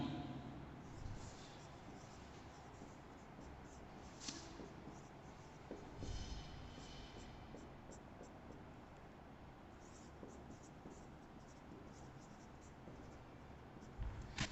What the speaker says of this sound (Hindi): चलिए लिख के रख देंगे